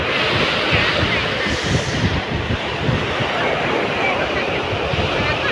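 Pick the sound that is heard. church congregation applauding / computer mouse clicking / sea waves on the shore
sea waves on the shore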